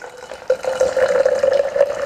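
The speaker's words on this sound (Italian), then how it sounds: "una volta versato con l'aggiunta di acqua calda" Hot water pouring into a thermos of matcha, a steady close liquid stream with a rising tone as the vessel fills, starting after a brief pause and running alone.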